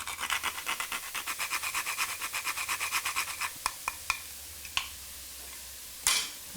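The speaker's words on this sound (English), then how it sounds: "A good stir." A spoon stirs a spiced dish of crushed chilies and fresh nutmeg in a scraping back-and-forth rhythm, about two strokes a second, then slows into a few separate taps and a final clatter.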